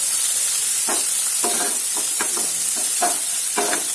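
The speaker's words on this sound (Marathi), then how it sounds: "याच्यात आपण आलं लसूण पेस्ट टाकूया. यालाही छान शिजवायचं. त्याला पण व्यवस्थित परतून घ्यायचं." Ginger garlic paste sautés in a pan of softened onions, a steady close sizzle broken by repeated scraping stirs of a spoon in an even rhythm, with no voices.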